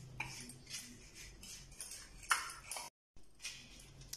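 Green chilli pickle spices, including pickle masala, being mixed together with a spoon in a bowl, giving light metallic clinks and scraping taps scattered through the quiet, with one sharper ping near the middle.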